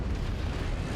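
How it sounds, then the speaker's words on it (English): Airstrike explosion in MechWarrior Online: a thick, roaring blast fills the whole second as a steady, loud, broadband rumble with no speech. "And an airstrike."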